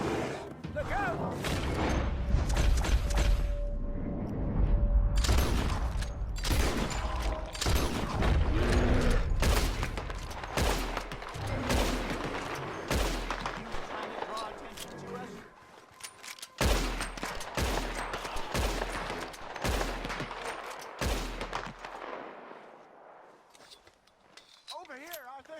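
Repeated gunfire aimed at a bear in Red Dead Redemption 2, loud sharp shots in irregular volleys over about twenty-five seconds, mixed with other game noise and some voices.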